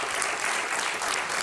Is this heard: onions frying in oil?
no